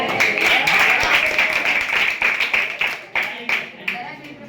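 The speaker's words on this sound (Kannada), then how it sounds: "ಎಲ್ಲ ಚಪ್ಪಾಳೆ" An audience of students claps at a school event introducing poets, a dense round of applause that thins out into scattered claps, with voices mixed in.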